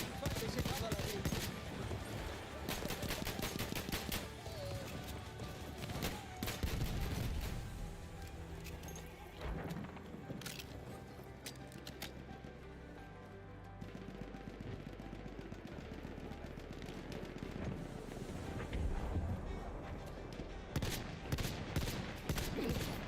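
Dense Battlefield 1 gunfire, with rapid volleys and machine-gun bursts crackling continuously alongside booms and crashes. A voice talks over the shooting.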